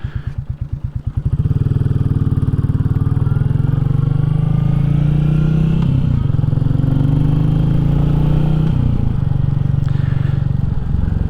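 A Royal Enfield Classic 350 motorcycle riding along country lanes in Powys, its single-cylinder engine thumping loud and close, rising from a lower beat into a steady drone with slight shifts as revs change.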